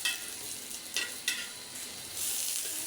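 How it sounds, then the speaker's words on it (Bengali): Eggplant slices frying and sizzling steadily in a pan for a Bengali bharta, with a couple of sharp scraping clicks as the pieces are flipped over and a brighter sizzle swelling near the end. "বেগুনগুলো এক পিঠ হয়ে গেছে"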